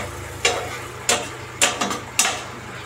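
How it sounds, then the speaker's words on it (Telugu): Apple pieces frying in oil for apple halwa, with a steady low sizzle and several sharp scraping stirs of a spoon against the pan at roughly half-second intervals. "ఇలా 5 minutes కొంచెం బాగా వేపుకోవాలి ఫ్రెండ్స్ నూనెలో."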